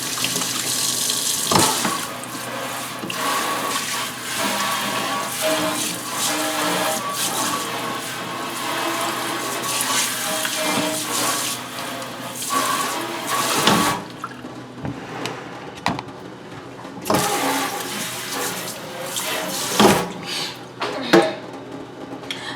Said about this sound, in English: Let me wash my hands as I pick up the germs